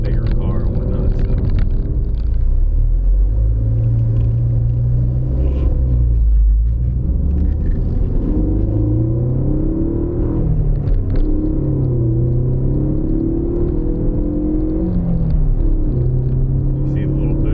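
A Ford Focus ST with a 2.0-litre EcoBoost turbocharged inline-four, heard from inside while driving: a steady low engine rumble with rising and falling tones as the revs change, continuous and loud throughout.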